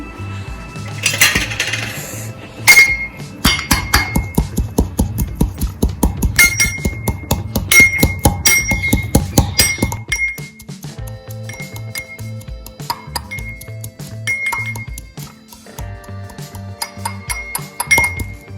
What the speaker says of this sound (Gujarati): હવે તેના માટે આપણે જે ધાણા લીધેલા છે તેને ખાંડી લઈશું